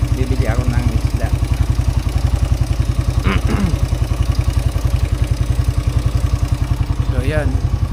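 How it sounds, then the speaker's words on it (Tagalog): A motorcycle idles close by in Naic, Cavite, its engine throbbing in rapid, even pulses throughout while someone talks over it in short bursts. "pinandar ko na yung motor para makapunta ng Bulungan"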